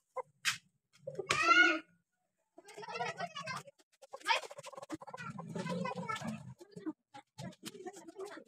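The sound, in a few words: hen clucking, Aseel chicken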